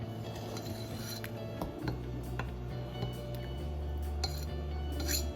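A knife clinks and taps against a metal pot of boiled potatoes, a few light scattered knocks over a low steady hum from the stovetop.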